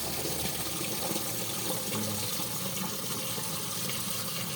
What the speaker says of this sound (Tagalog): Yung tinola, lagyan ko ng tubig guys.